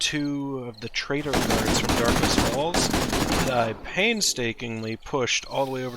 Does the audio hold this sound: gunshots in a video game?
yes